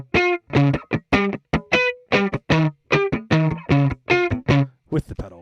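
Distorted electric guitar playing the bridge riff of a song with no delay pedal, a run of sharp, evenly spaced staccato notes and chords, loud and close, played alone.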